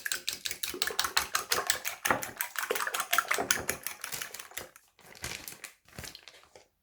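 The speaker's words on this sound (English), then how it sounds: "Now whisk the eggs." Eggs seasoned with black pepper are whisked briskly in a bowl, producing a fast, even run of close clicking taps that slows and breaks into shorter bursts near the end.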